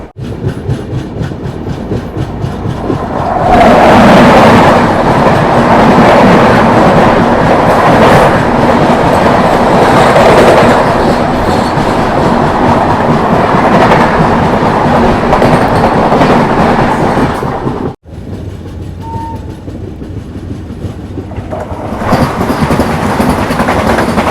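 Sleeper coach of the Capital Express train running on rails, heard from inside as a loud continuous rumble with rhythmic wheel clatter, briefly cutting out, then resuming at a somewhat lower level.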